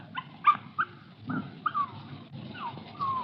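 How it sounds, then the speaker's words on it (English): A female puppy close by gives a string of high, thin whimpers and short yips, irregular and fairly soft, with brief gaps between them. "Just a puppy."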